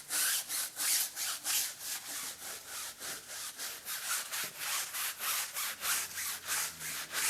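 Stiff brush scrubbing a car tire and wheel during a rainy-day cleaning in a garage, a steady rhythmic back-and-forth rasp of about twenty close, even strokes with no talking.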